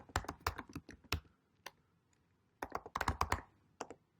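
Quick bursts of typing on a computer keyboard while entering a Linux terminal command, with crisp close clicks in two clusters and a pause between them.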